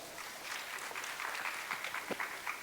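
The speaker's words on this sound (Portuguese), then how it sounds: "Palmas para ela." Audience applause at a university postdoctoral research meeting in São Paulo, a soft, fairly distant patter of clapping that swells and continues steadily, with no speech over it.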